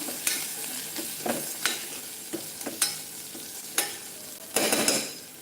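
Spices frying in hot oil for a moong bhaji, with a steady sizzle broken by repeated scrapes of a spoon against the pan, close and moderately loud, with no voices.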